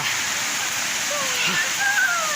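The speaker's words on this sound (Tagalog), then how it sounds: "nandito kami sa Balantak Falls ngayon" Balantak Falls in Basey, Samar: a steady broadband rush of falling water, continuous and fairly loud, with faint tones and a voice drifting in over it.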